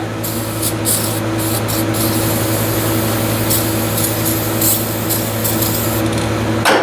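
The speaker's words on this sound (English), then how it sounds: "Just about out of brake cleaner." Brake cleaner sprays from an aerosol can onto motorcycle clutch parts, a loud and close continuous hiss lasting several seconds over a low steady hum.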